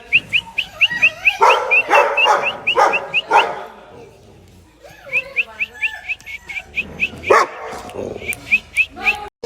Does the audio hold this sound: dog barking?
yes